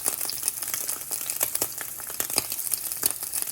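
Meat sizzles and spits in a hot pan for a carnivore meal prep, a steady dense crackle of frying with sharp pops throughout, close and fairly loud with no talking.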